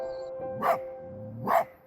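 Fox in the video game Spirit of the North barking twice, two short sharp yaps about a second apart over a quiet tonal game background, moderately loud.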